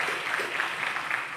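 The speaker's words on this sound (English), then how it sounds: "Let's give our students a big round of applause." Audience applause at a presidential candidate environmental forum: a steady, dense wash of clapping from a crowd, even in loudness throughout and without pauses or voices.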